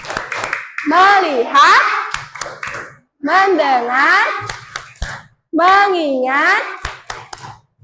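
A classroom group clapping a rhythmic 'tepuk fokus' pattern, sharp clustered hand claps and taps punctuating three chanted phrases in a teacher's and children's voices, close and loud in a repeating call-and-clap rhythm.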